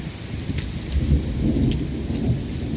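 Torrential rain pours steadily in a thunderstorm, a dense close hiss with low rumbling thunder underneath, no voices.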